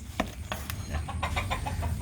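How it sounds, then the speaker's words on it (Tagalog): Small chickens kept by a rooster breeder give short, scattered clucks and chirps close by, several brief calls spread over a couple of seconds against a low background rumble. "maliliit silang manok"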